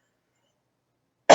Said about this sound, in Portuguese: eu ainda estou com aquela tosse nervosa